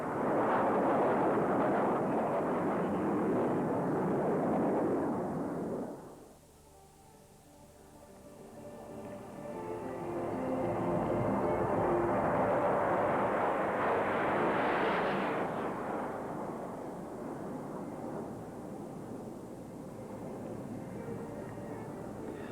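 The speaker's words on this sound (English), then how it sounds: "the Patrouille de France in their new Alpha jets send that little shiver down the spine" Alpha jets of the Patrouille de France roar through a formation aerobatic display at an air tattoo, a loud sustained rushing pass that drops away abruptly, then swells again into a second long roaring flyby with no voices.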